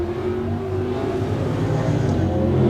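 A fastback Mustang at a bracket drag race roars down the strip, its loud, steady engine note holding strong and building slightly toward the end with no talk over it.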